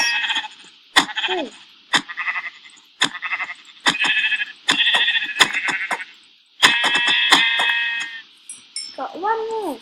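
Repeated sheep bleats from a video game, loud and close, arriving in short bursts about once a second with brief gaps between them; a single spoken word cuts in once.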